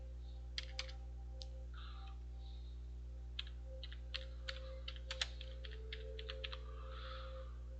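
Keys tap on a computer keyboard in short irregular bursts, faint and close against a low steady hum, no talk.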